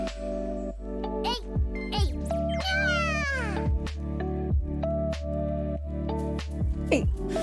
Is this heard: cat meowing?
yes